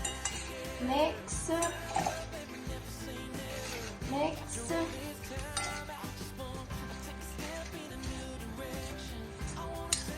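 Utensils clink and scrape against a bowl in a steady rhythm as a salad is tossed with vinegar and salt, close and moderately loud.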